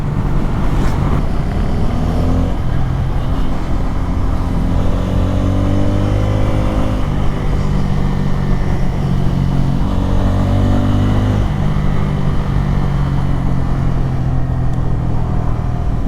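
Bajaj Pulsar N250 motorcycle cruising on a highway at around 110–120 km/h, a loud, continuous engine drone with shifting pitch over rushing wind noise, steady throughout with no speech.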